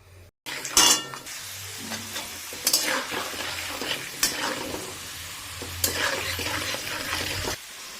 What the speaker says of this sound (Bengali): এবারে এই তেলেতে আমরা ভেজে নেব বাদাম